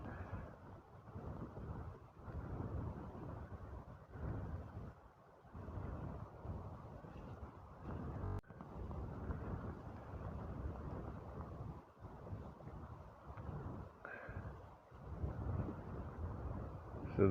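Steady outdoor wind buffeting the microphone on a chilly 10-degree day at sunset, a continuous low roar that swells and dips without pause.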